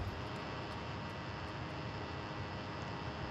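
Steady, loud drone of a biplane engine in DayZ, a continuous broadband roar with no breaks and no voices over it.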